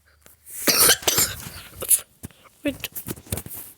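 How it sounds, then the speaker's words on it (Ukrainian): Several harsh coughs and throat-clearing bursts come in quick succession, close and loud, with a few short pauses between them. "кашляю, кашляю."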